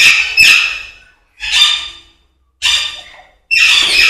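Alexandrine parakeets and other parrots at a large bird nursery squawk loudly and close, four harsh screeching calls spaced about a second apart with short silences between them.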